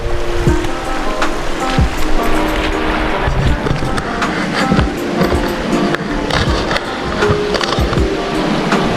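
The clear Udalo River in Occidental flows past in a loud, close, continuous rush of water, with irregular splashes and gurgles throughout.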